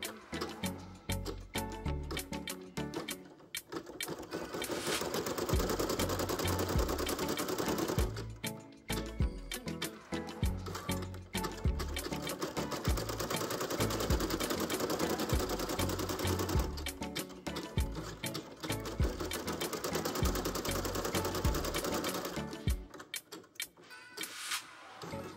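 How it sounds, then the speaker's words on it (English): Home embroidery machine stitching the outline of an in-the-hoop glass slipper keychain, including jump stitches. The rapid, loud mechanical needle chatter runs in long bursts and pauses briefly between sections, with no voices. "when we outline the heel, there will be a few jump stitches"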